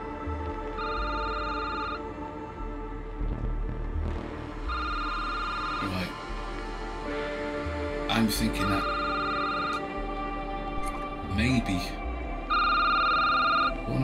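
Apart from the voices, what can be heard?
telephone ringing in a video game security booth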